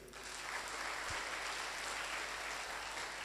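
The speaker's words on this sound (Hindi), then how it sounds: "एक जोरदार ताली होनी चाहिए।" Steady applause from an event audience at a DXN health-product presentation in India, a continuous broadband clapping wash throughout, moderately distant and without speech.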